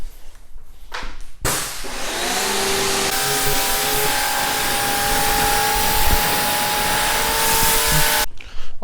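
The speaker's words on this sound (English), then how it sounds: "pressure washer." A pressure washer rinses down a 2020 BMW X6 during paint decontamination and prep, giving a loud, steady, close spraying hiss with a mechanical hum that kicks in sharply and runs continuously for several seconds before cutting off.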